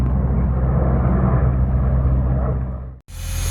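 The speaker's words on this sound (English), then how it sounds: "Oh, another plane." An airplane passes overhead near a moored narrowboat, a loud, broad low roar that holds steady for about three seconds before cutting off abruptly into brighter noise.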